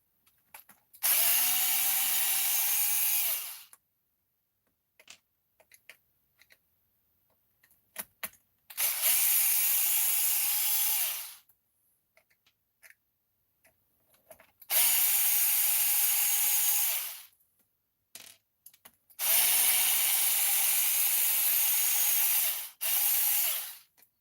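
A power driver drives screws into a Redcat Earthquake 3.5 RC truck in four loud bursts of high-pitched whirring, each lasting a few seconds, separated by quiet gaps with small clicks and handling noises.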